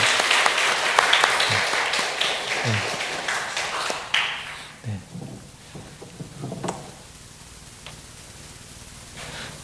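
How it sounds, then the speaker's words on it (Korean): A church congregation at a Parents' Sunday service breaks into applause, loud and full at first, then thinning into scattered claps that fade into the room's quiet. "우리 큰 박수 드리겠습니다."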